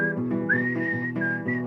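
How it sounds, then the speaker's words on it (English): A person whistles a guitar melody line solo, a clear sustained tune of held and sliding notes over a steady background hum. "and then I gotta whistle that part"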